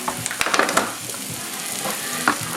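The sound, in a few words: shallow frying in hot canola oil, sizzling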